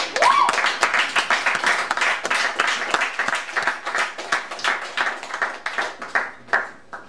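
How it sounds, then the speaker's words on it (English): A crowd at a poetry open mic in Newark applauds steadily for several seconds, dense clapping from many hands filling the room before gradually thinning toward the end. "strong round of applause for the last poets on the open mic"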